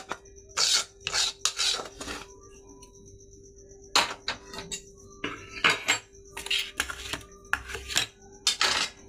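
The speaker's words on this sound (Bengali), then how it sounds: "এবার আমি এটাকে থালাতে দিয়ে দেবো।" A cooked soybean dhoka mixture is scraped from a pan onto a plate, giving repeated close metallic clinks and scrapes of a spoon against cookware in irregular bursts with short pauses.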